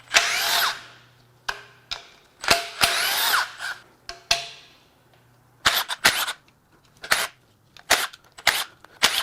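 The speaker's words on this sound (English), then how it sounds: "Start unbolting stuff from the pan." A power tool zips fasteners off the oil pan of a 1FZ-FE 4.5L engine from an 80 Series Toyota Land Cruiser with 343,000 miles, loud close bursts of whirring and rattling in short repeated runs with brief pauses between.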